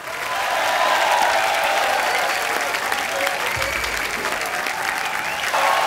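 Loud, sustained applause from a large audience, a dense wash of clapping that continues steadily throughout.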